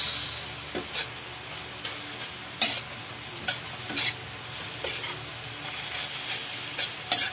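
Scrambled eggs stir and fry in a pan, with a steady close sizzle throughout and several sharp scraping clicks from the utensil against the pan, no voices.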